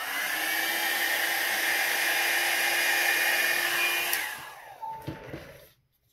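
A hair dryer blows acrylic paint poured from a bottle onto a canvas, a steady loud whirring hiss that runs for about four seconds, then cuts off and winds down into a few faint knocks.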